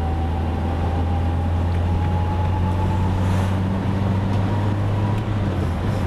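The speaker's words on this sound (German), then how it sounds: "Ich kann einmal richtig Gas geben." A car engine pulls hard on an open road, its low drone and rising tone steady and fairly close for a few seconds with no voices over it.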